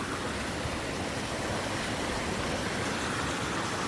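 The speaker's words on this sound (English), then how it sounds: "And there's a little waterfall up there." A small waterfall beside a hiking trail near Bottleneck Lake, giving a steady, even rush of falling water that holds constant throughout, fairly close and moderately loud, with no voices.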